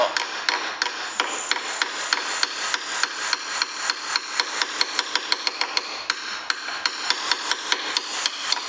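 Light, rapid hammer blows ring out in a steady, close-up rhythm against a leaf spring hanger bolt on a Renault Master van, each tap sharp and metallic with no talking.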